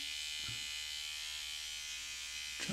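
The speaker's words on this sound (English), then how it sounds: "So it says you can hold this up and use the trimmer." An electric beard trimmer buzzes steadily and close up throughout while cutting along the cheek line of a beard, with a couple of brief handling knocks.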